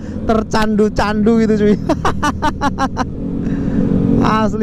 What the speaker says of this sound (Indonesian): Knalpot kayak gitu tuh suaranya tuh bikin candu banget guys